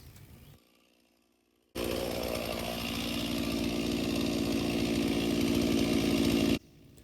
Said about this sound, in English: people always wonder why I leave the saw running at this point